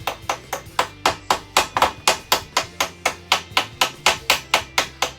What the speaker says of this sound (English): Sometimes you just take your hammer a little bit and just knock off the high spots